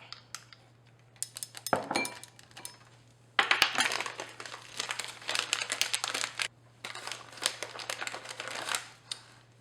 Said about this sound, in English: I'm just using the teaspoon to get it out.